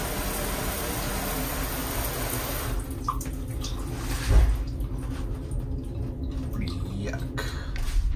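A shower runs in the narrow bathroom of a Carnival Valor interior stateroom, steady water spray at close range, with a louder splash midway as the flow shifts.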